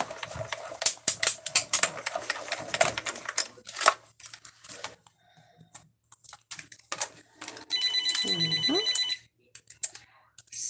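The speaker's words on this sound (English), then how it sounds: "So you will hear the phone ringing" A telephone rings in another room, its bell-like tones repeating through steady keyboard-like tapping, loud at the start and then in a clear burst near the end, with brief low sounds in between.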